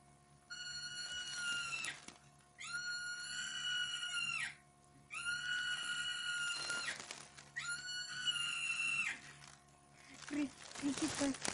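A marmot lets out four long, shrill, tonal screams, each lasting over a second, separated by short pauses, over a steady background hum, with a few rough sounds at the end.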